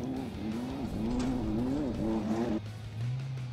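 A close, roaring off-road Class 8 race truck engine with shifting pitch as it revs and changes gears, loud and continuous, dropping to a lower drone near the end.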